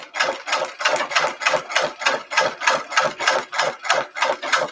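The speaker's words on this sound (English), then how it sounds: "We're sewing underwear." A sewing machine stitches an envelope chemise undergarment, running in a steady, even rhythm of roughly a dozen quick mechanical pulses, close and clear, with no talking.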